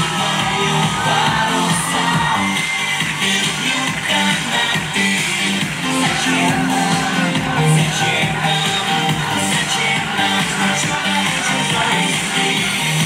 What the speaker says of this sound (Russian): Громкие аплодисменты и восторженные крики по праву заслужили все выступавшие на сцене